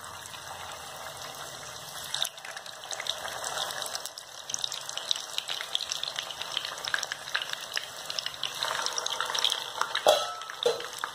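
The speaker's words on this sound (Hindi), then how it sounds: "अब आप तैयार किए हुए डो को तेल में डालें" Chhena dough frying in hot oil in a kadhai, a continuous dense sizzle with crackling and bubbling that grows busier and louder partway through, close up, with no talking.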